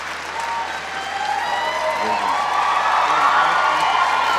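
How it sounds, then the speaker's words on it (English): Sustained audience applause at an interview event, a dense wash of clapping that swells slightly and holds steady throughout, with scattered cheers and indistinct crowd voices mixed in. "Is that why you clap?"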